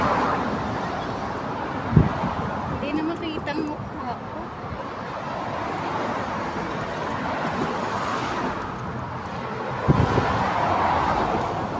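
Busy city street traffic with many vehicles, a steady roadway rumble with occasional louder passing thumps, heard under a person talking nearby.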